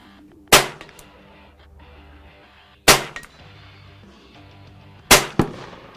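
Three separate air rifle shots fired at a target, each a sharp, close crack followed by a brief smaller snap, spaced a couple of seconds apart against a quiet outdoor background.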